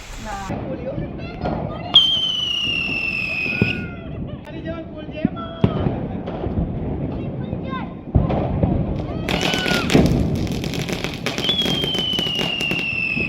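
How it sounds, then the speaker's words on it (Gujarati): Firecrackers bursting across a neighbourhood during Diwali evening celebrations, with repeated sharp pops and crackles, some whistling rockets rising, all over a continuous background of crowd noise and voices. "સાંજ ઢળતાની સાથે સૌ કોઈએ પરિવારજનો અને મિત્રો સાથે મળી ફટાકડા ફોડવાનો આનંદ માણ્યો હતો"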